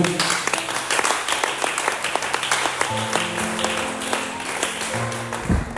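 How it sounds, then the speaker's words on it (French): A church congregation applauds together at a Celebration 2025 worship service: a dense, steady wash of many hands clapping that fills the whole stretch, with faint sustained musical tones beneath it. "Est-ce qu'on peut acclamer pour le Seigneur?"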